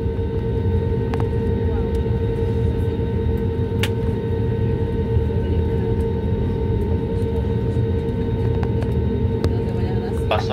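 An Azul Airbus A320neo jet taking off at night from runway 08, its engines a loud, steady roar with a constant high whine that holds for the whole stretch, a few faint clicks scattered over the top.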